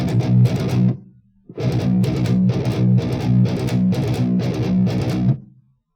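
Heavily distorted metal guitar in B standard tuning chugs a reverse gallop riff, two sixteenths then an eighth, in repeated loud palm-muted bursts with a brief gap near the start, no voices.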